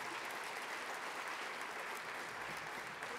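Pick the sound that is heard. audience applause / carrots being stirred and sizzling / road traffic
audience applause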